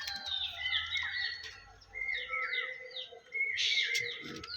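Andhra Kalanka pigeons and their young give repeated high, thin chirps and squeaks in quick bursts, fairly close and moderately loud, with no talking.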